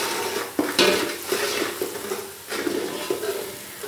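Spices, green chillies, curry leaves, salt, dried fenugreek and ginger being stirred in a pan for kadhi, with a steady scraping and clinking of a spoon against metal over a soft sizzle, close and moderately loud with no talking.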